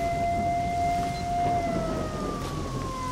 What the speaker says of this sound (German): Oh, diese Sirene macht mich wahnsinnig.